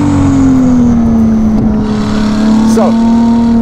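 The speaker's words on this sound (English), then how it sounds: "So we've got the wackiest exhaust on this." Novitec-exhausted Ferrari 296 GTB accelerating, a loud, steady engine drone rising gently in pitch close by, with music and brief voices in the background.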